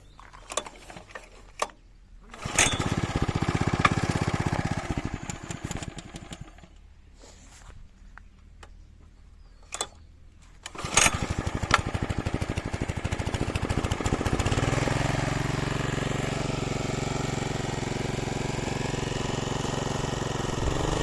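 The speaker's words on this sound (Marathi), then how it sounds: "तर मंडळी ट्रॅक्टर चालू झाला आहे" A tractor engine cranks and catches near the end of a farm field during rice transplanting, then runs at a loud, steady idle. Scattered clatter and bursts come before it starts.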